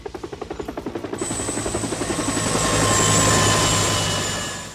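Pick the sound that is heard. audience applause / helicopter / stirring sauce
helicopter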